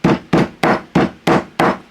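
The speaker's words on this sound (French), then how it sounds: "on va donner bizarrement un coup de marteau sur la couture rabattue d'empiècement" A hammer strikes the flat-felled yoke seam of denim jeans six times in a steady rhythm, each blow a sharp, close, dull thud with no talking.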